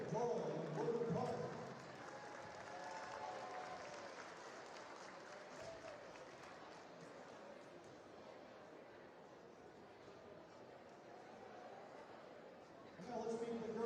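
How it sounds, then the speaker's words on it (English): Applause and crowd noise fill a school gym at a basketball game for the elementary basketball cheerleaders from Cassville, Doyle and Woodland Park, a diffuse, distant roar of clapping and chatter, with voices rising near the start and end. "let's have a nice round of applause for the elementary basketball cheerleaders from Cassville, Doyle, and Woodland Park"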